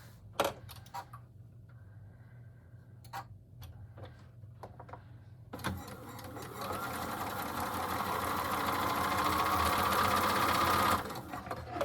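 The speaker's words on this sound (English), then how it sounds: "So we're just going to lay them right side together and sew along the seam." A sewing machine stitches quilt block pieces along a quarter-inch seam, running in a steady, fast whir for about five seconds after a few light clicks and handling sounds.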